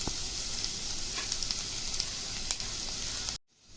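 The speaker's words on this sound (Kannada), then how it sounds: "ಇದನ್ನು ಚೆನ್ನಾಗಿ ಫ್ರೈ ಮಾಡಿ." Cauliflower frying for Gobi Manchurian, a continuous moderate sizzle with a few light clicks of stirring, cutting off abruptly near the end.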